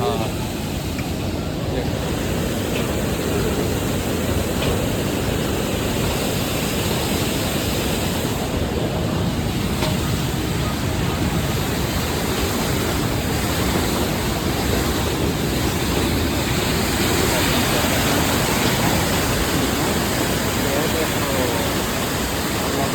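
Rushing river water near Kedarnath temple, a loud, constant broadband roar filling the whole stretch, with voices partly buried beneath it.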